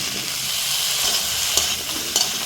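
Cut pieces of koi fish hit a pan of hot spices, with dried chilli powder and turmeric among them. The result is a loud, continuous sizzle with faint scraping from stirring.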